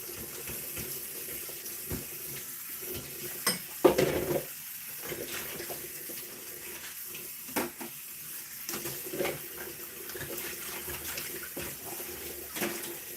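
Dishes are washed under a running tap in a home kitchen while a steak and Stilton pie is cooked: quiet continuous water flow with scattered clinks and clatters, no talk.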